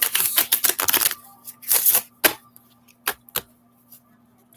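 Tarot cards being shuffled at close range: a dense run of quick riffling bursts, a second burst, then a few isolated snaps and taps, with a low steady hum underneath.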